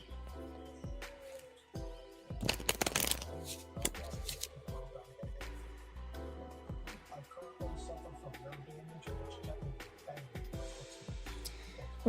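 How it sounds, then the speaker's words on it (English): Tarot cards shuffled by hand in a steady run of dense riffling bursts that peak midway, with soft background music throughout and no talk. "So, Ray, I am shuffling for you now."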